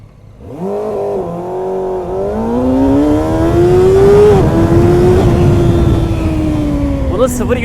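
A motorcycle ridden at night accelerates as the throttle opens, the engine note climbing loud and close from a low rumble to a sustained rising whine, then easing slightly while held steady.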